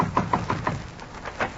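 Knocking on a door as a sound effect in an old radio comedy show: a quick series of four raps, a brief pause, then two more knocks, close and fairly crisp.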